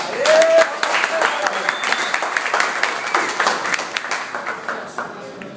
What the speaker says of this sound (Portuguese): eu gostaria que vocês me ajudassem a receber uma forte salva de palmas